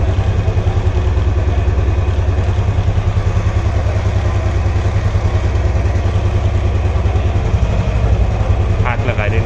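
A Royal Enfield 350 motorcycle engine runs close by with light throttle, giving a steady, even thumping throb that holds for the whole stretch, with low voices in the background.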